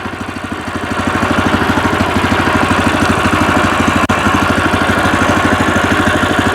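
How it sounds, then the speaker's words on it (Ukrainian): A 16-horsepower walk-behind tractor engine idles with a steady, rapid chugging beat, loud and close, running evenly throughout. "Вже більш потужно працює і чутно, як працює двигун."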